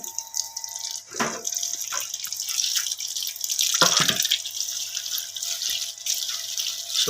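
Enoki mushrooms and vegetables such as cabbage, carrot, celery and spring onion are rinsed under a running kitchen tap, with steady close water flow, drips and a couple of louder splashes into the sink.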